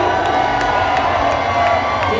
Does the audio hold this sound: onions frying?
no